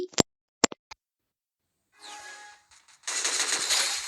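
A G36 assault rifle fires in a first-person shooter game, Lone Wolf mode: a few sharp isolated shots, then a short rattling burst and a longer loud sustained volley near the end.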